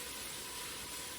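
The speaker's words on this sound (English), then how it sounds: "Hopefully you just hear the sizzling onions." A steady, dense sizzle of onions frying in a pot, a continuous bright hiss with no talking.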